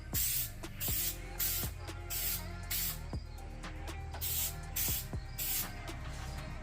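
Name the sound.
spray can applying a light coat of paint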